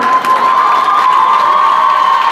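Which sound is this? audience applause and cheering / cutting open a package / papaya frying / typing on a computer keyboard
audience applause and cheering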